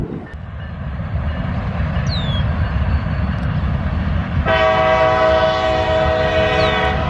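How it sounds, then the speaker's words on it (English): A train rumbles past close by with a loud, steady roar of rail cars. Its horn blasts in a sustained chord partway through, with no talking. "we're going to take a break and wait for that train to pass"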